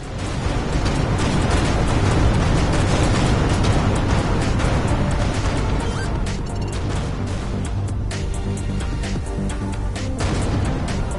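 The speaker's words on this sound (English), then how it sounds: "Vacate this area at once. Explosion imminent." A big explosion in the space combat game Everspace 2 booms and crashes loudly, with dense, roaring debris and rumble that fills the whole stretch without easing off.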